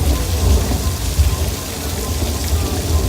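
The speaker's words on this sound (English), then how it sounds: "Can we cut the rain? It's too much water." Heavy, steady artificial rain from a studio rain machine pours down in a dense, continuous wash with a deep low rumble underneath, loud and close, with no voices.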